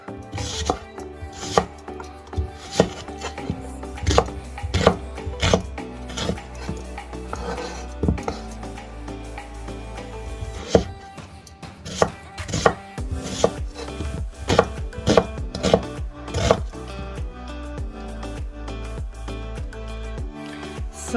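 A knife roughly slices four medium peeled onions on a board, giving a steady run of sharp, close chopping knocks in an uneven rhythm over faint musical background, with no talk.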